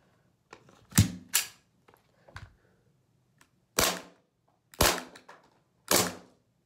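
An airsoft pistol fires at a bottle, sharp close snaps standing out from quiet, including several loud reports and a few softer clicks and knocks between them, with no talking.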